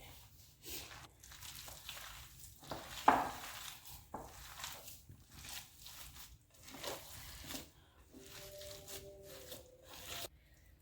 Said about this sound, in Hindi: अब इन सब चीज़ों को हम अच्छे से मिक्स कर देंगे हाथ की मदद से